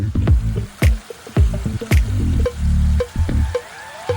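Water pours over a stone spillway in a landscaped garden, making close, loud splashing with irregular drips, plops and gurgles, and no one speaks.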